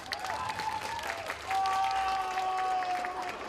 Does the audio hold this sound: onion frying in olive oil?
no